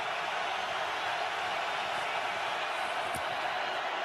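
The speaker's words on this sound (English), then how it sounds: "Crowd roaring at Soldier Field." Steady, dense roar of a large football crowd at Soldier Field during an NFC Wild Card game between the Eagles and Bears, a continuous wash of noise with no breaks.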